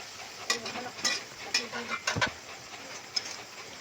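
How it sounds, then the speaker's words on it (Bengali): Spiced masala with mushrooms stirred and fried in a pan, giving a steady close sizzle broken by several sharp scraping strokes of a spatula, some faint background sounds present. "এটা নেড়ে কষিয়ে নিতে হবে মশলাটাকে"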